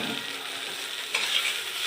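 Fried black cumin seeds tipped into a hot pan of fried coriander leaves and stirred for a bean bharta, giving a steady soft sizzle with scraping that brightens briefly partway through, no voices.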